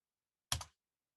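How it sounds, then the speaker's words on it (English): A single quick keystroke on a computer keyboard, one short close clack in otherwise silent surroundings. "Typing the right command helps."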